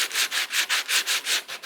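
A sanding block with 100 grit paper is rubbed back and forth over wood by hand, about eight even rasping strokes in a steady rhythm, close and fairly quiet with no talk.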